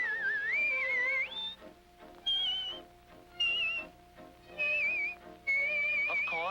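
A woman whistles to call her daughter in a small town, sending clear, bright, wavering phrases in several bursts with short pauses between them, close and alone.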